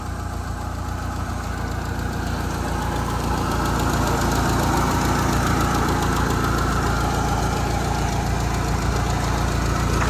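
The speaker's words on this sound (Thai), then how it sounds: "เดี๋ยวเราจะให้ทีมงานขับดูนะครับ" Engine of a cheap used car during a test drive, a loud, steady droning rumble with a rough, knocking vibration that runs throughout without pause.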